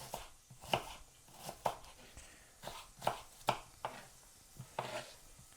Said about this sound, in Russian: мы вот так полукольцами нарезаем наш лук